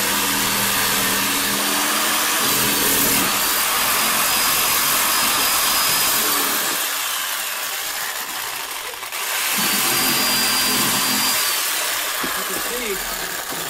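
A power tool grinds loudly and continuously while cutting off a broken flange, its high, harsh whine dipping briefly midway before resuming, with someone talking over it.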